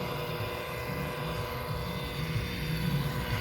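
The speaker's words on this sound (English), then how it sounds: "Back and forth, covering as much of this boat as you can with your buffer." Steady droning whir of a polishing buffer working across a boat's gelcoat with heavy-cut compound, a continuous mechanical hum with no voices.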